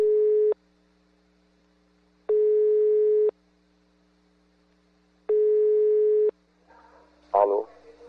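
Phone ringback on an outgoing call: three long, evenly spaced electronic tones with silent gaps, followed by a brief burst of a voice answering at the end.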